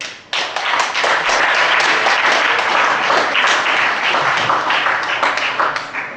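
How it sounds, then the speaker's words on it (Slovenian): Loud, dense applause from a studio audience welcoming a guest onto the stage of a Slovenian talk show, kicking in sharply and holding steady before tapering slightly at the end. "Gospe in gospodje, prosim se, en velik aplavz"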